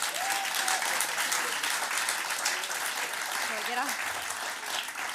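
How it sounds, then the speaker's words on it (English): Sustained, dense applause from the audience of a closing-ceremony panel fills the room evenly at steady volume, with faint voices calling out beneath it. "So I would like to really ask you to give a great hand of applause to the panel."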